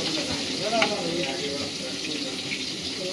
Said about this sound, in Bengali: মাছ ভাজা চলছে এখন।